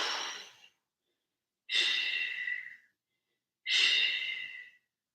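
Three slow, deep breaths during a yoga lunge twist, each a long airy exhale separated by silence, close and clear.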